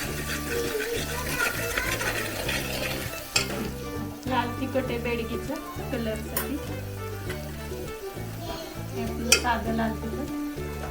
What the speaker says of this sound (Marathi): या ठिकाणी ती आता भाजी मॅश करते मिक्स करते